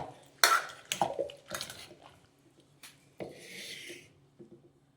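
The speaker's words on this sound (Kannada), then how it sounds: "ಬೇಳೆ ಮಸಿ ಅದರಲ್ಲೇ ಈ ರೀತಿ ಚೆನ್ನಾಗಿ ಸ್ಮ್ಯಾಶ್ ಮಾಡ್ಕೊಳ್ತಾ ಇದ್ದೀನಿ" A wooden dal masher pressing and scraping hot carrots in a metal pot, with uneven knocks and clatters in a loose rhythm, close and fairly quiet, no talking.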